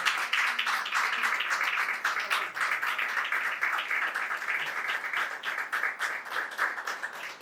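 Audience applause for a guest at a tribute event honouring a Peruvian criollo guitarist, heard as steady, dense clapping from a crowd that holds at a moderate level for several seconds.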